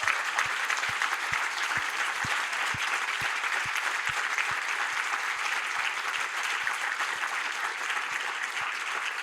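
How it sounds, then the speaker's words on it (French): Audience at a French colloquium clapping for an organiser, a sustained even round of many hands with a faint rhythmic thump beneath it, no talk over it. "Et je pense qu'elle mérite un applaudissement"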